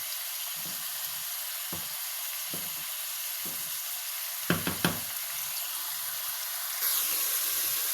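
Meat browning in a pan for a pasta sauce, giving a steady close sizzle and frying hiss throughout, broken by a few sharp clicks and clatters of utensils partway through, with no talking.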